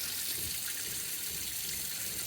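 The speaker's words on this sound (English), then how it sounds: "you'll hear the water pump going a little bit there, but you'll have fresh running water out of your sink" Water runs steadily from an RV sink faucet fed by a fresh water pump, a soft, even hiss with no break.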